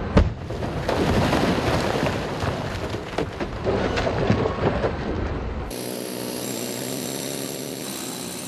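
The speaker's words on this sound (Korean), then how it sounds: "오전 내내 석산에서 드릴의 굉음이 울려 퍼지고 있다." A rock drill roars at a granite quarry, dense broadband clatter and bursts filling the first six seconds, then giving way to a steady high whine of machinery.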